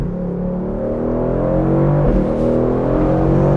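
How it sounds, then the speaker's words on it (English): A Mercedes-AMG GT Roadster Stealth Edition with the AMG Performance exhaust drones steadily under load, its engine note rising slightly in pitch as it accelerates, loud and close from inside the car, with no talking. "that AMG Performance exhaust is really just awesome."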